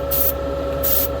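A Paasche airbrush sprays paint on a race team fan assembly in two short hissing bursts, close and loud, over a steady compressor hum.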